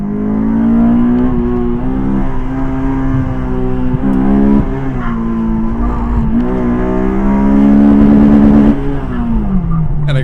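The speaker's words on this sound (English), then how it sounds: "it is really fun sailing through the finish on the rev limiter like that" Honda S2000 engine screaming at high rpm during an autocross run, a loud, close, sustained wail with slight pitch shifts as it holds near the limiter, then easing off at the end.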